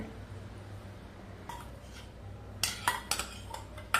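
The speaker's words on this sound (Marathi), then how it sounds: "आणि चांगलं आपण पीठ आता हलवून घेऊया." Gram flour roasting in ghee is stirred in a pan, with quiet scraping and a run of sharp metal spoon clinks against the pan toward the end over a low background hum.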